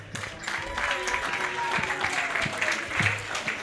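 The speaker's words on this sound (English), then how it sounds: "keep that round of applause going" Wedding reception guests applauding in a steady round of clapping, with voices talking over the claps.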